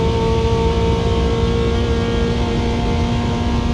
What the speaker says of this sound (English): It's got a satisfying noise when it shifts.